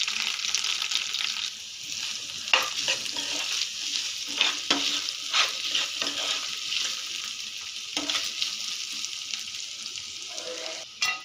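Bitter gourd pieces frying with ginger-garlic paste in a pan, a constant loud hissing sizzle broken by repeated scrapes and knocks of a stirring spoon, close up throughout.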